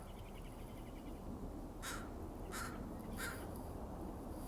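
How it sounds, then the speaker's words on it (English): Crows cawing in a spring garden with flowering currant and Oregon grape, three separate harsh caws spaced about a second apart, moderately clear over a steady low outdoor hum. "Sounds like the crows do too."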